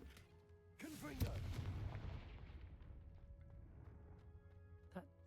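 A Confringo fire spell bursts in Hogwarts Legacy, a sharp blast at about a second in that rolls into a long, decaying rumble, with a faint crack near the end.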